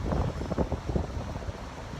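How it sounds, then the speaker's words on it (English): Strong gusting wind buffets the microphone outdoors on a very windy day in San Francisco, a continuous loud low rumble with irregular surges throughout. "It's an extremely windy day in SF."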